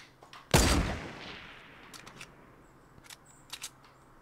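A single loud, close gunshot blast in Fortnite Battle Royale, with a sniping mode in play, rings out and decays, followed by a few faint, scattered shots and clicks further off.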